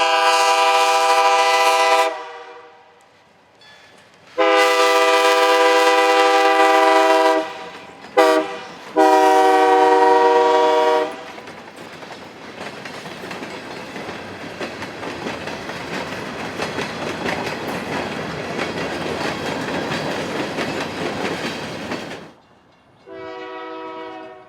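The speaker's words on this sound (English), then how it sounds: "The train rolled along with ease in Glassford." Freight train hauled by F unit locomotives rolls past at Glassford with several loud, long horn blasts, then a steady rumble of passing cars and a final shorter horn.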